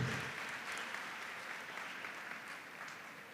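Audience applause for a school team from Tamale at an academic competition, a soft, even spread of clapping that stays steady throughout.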